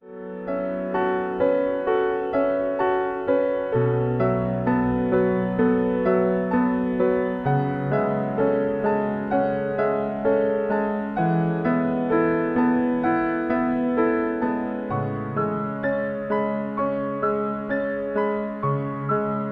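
Computer-generated piano music with a steady rhythmic accompaniment and a lead melody playing scale notes in quarter notes, sustained chords ringing continuously and evenly at moderate loudness.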